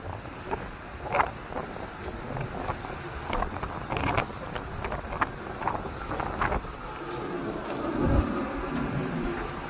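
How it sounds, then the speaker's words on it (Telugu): Strong wind of about 30-40 speed roars outdoors with buffeting gusts against the microphone, a steady rushing noise with occasional thumps and a surge near the end. "30-40 స్పీడ్ వేగంతో గాలి."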